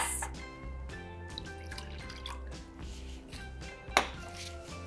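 Boiled water poured into a Pyrex glass dish with gentle splashing and trickling, plus a sharp clink of glass near the end, over steady kitchen hum and tones.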